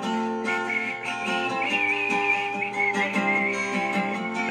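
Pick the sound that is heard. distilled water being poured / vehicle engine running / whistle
whistle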